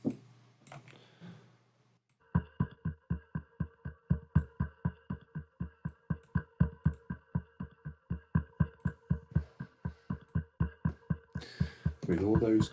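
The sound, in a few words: low pulse patch from Soundiron Luminabells library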